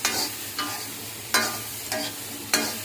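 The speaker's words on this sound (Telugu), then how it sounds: "అందుకోసం కొద్దిగా ఫ్రై చేసుకోవాలి" Mushrooms fry in a pan for a mushroom masala curry, a steady close sizzle punctuated by four sharp stirring scrapes at regular intervals.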